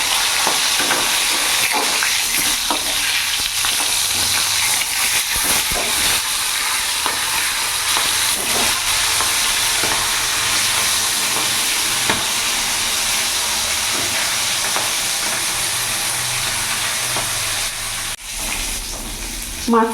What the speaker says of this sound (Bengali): মাছটা এক পাশটা ভাজা হয়ে গেছে